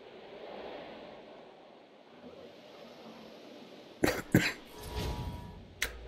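A few sharp coughs burst out over steady outdoor wind and surf noise, close to the microphone, followed by a short final cough.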